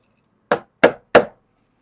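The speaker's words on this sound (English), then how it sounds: "I'm going to use this rubber mallet to help me pound them in" A rubber mallet pounds fasteners into a Jeep JL tailgate table: three evenly spaced, close thuds with short decays against near silence.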